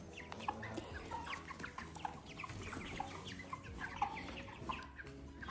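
A flock of month-and-a-half-old chickens on a family farm on Terceira Island, Azores, clucks and chirps continuously, many birds overlapping in a busy, fairly quiet chatter with no talking.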